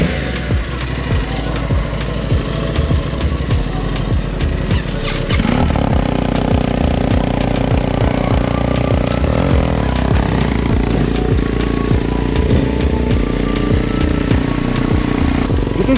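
A BMW GS1300 motorcycle engine runs steadily close by for the whole stretch, a dense, continuous rumble with clattering mechanical texture that grows slightly fuller and louder partway through, as if the revs rise or it pulls away.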